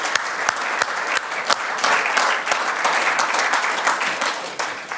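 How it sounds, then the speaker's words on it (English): An audience at an entrepreneur awards ceremony applauds steadily, dense clapping filling the room at close range with a few sharper individual claps on top. "And a round of applause, please."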